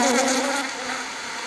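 Honey bees buzz around an open hive during an inspection, a close, dense, steady hum of many wings that fades slightly toward the end, with no talking.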